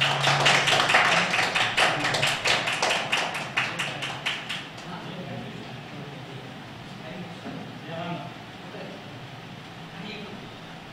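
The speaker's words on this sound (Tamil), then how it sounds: "கொஞ்சம் கைத்தட்டி உற்சாகப்படுத்தினா ரொம்ப சிறப்பாக இருக்கும்." Audience applause at a Tamil astrology gathering, a dense patter of clapping hands that rises at the start and then thins out, with a tapping, rhythmic quality, fading into quieter murmuring room noise.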